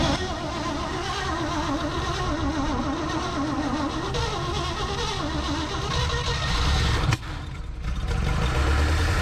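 An engine in a 1956 Chevrolet tow truck, long abandoned, runs loudly and close, holding a rough steady idle with warbling pulses, then briefly dips and surges near the end.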